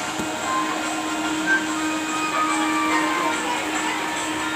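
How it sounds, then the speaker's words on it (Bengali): A train pulls into a rainy railway station, a steady low rumble with a sustained tonal hum running throughout, moderately loud and continuous without clear wheel beats or speech. "এই একটা ট্রেন ঢুকছে,"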